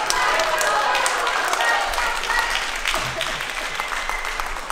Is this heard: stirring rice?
no